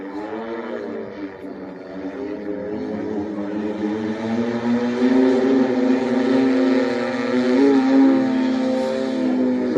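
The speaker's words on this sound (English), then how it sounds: "Listen to the prop noise, engine noise, or lack thereof" A droning propeller engine hums steadily, its tone rising and thickening as the aircraft passes close by in very slow forward flight at the Oshkosh air show.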